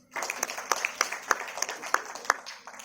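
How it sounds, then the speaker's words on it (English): A small crowd at a medical conference in Dhanbad, India applauds with scattered, uneven hand claps that continue briefly without any talking. "Can we give him a big applause?"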